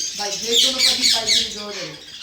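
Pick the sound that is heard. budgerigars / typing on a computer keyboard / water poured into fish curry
budgerigars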